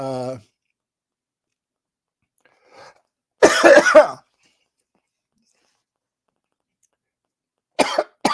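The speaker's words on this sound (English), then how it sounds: "this is not the time to get the coughs." A short burst of harsh coughing breaks a quiet room, followed by a brief faint cough-like sound near the end; a voice is heard briefly at the start.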